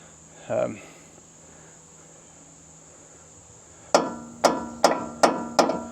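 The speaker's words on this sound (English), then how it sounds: "take a hammer right there on that bolt" Five sharp metallic hammer strikes on a bolt during strut removal ring out in steady succession near the end, after a brief thump, with a constant high insect-like whine throughout.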